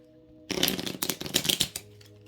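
Amira oracle cards being shuffled by hand, a quick crisp riffle of flicking and slapping card edges lasting just over a second, close up, set against a quiet tonal background with no speech.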